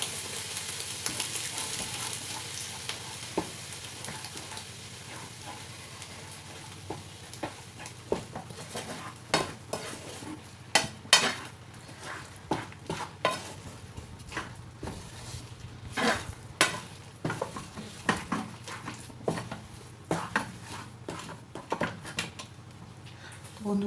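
Semolina being stirred with milk in a pan to form a dough, heard as soft scraping and irregular taps and knocks of the spoon against the pan over a low background hiss.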